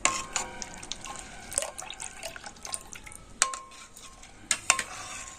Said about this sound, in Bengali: এই ক্যারামেলটা অল্প অল্প করে দেবো আর দুধের সাথে কিন্তু মিশিয়ে নেবো